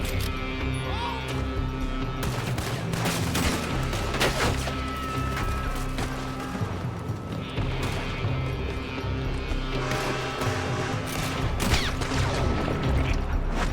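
Red Dead Redemption 2 gunfire crackles in dense, repeated bursts over roughly fourteen seconds, layered with game effects and some background voice.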